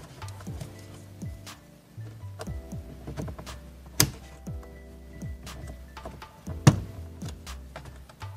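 A plastic trim tool pries up interior trim on a 2019–2022 RAV4, with light ticks, taps and scraping plus two sharper snaps as clips release, close and fairly quiet under a low background hum.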